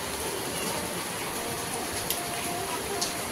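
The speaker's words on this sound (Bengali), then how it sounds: "দেখো বৃষ্টি বৃষ্টি" Light rain falls on a Delhi street, a steady, even hiss fairly close by, with a couple of faint taps rising above it.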